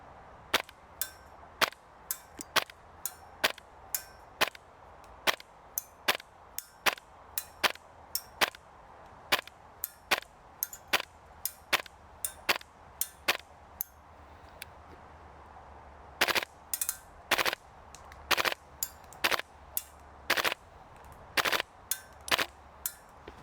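A Double Eagle Lupus gas blowback airsoft rifle fires semi-auto shots, sharp, evenly spaced cracks with brief gaps between them, then switches to full auto for a few quick bursts of rapid pops near the end.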